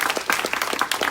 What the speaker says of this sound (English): Can we just have one more round of applause?